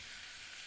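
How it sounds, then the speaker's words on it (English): A tomahawk ribeye steak searing on the hot grates of a 22.5-inch Weber Performer Premium grill, a steady, even sizzle and hiss close by, with no talk over it. "That's the sizzle you want to hear."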